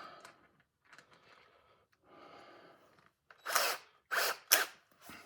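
Handheld polisher working on an antique torch under restoration, with a few soft short buzzes followed by three louder bursts of whirring near the end.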